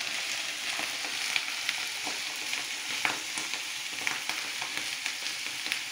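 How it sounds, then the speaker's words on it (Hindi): Rice poured into water in a cooking pot for sweet zarda rice and stirred, giving a steady wet bubbling sizzle with small scraping and clinking accents close by, no talking. "अभी हम इसमें ये देखें हम चावल डालने लगे हैं, साथ साथ हम मिक्स करेंगे।"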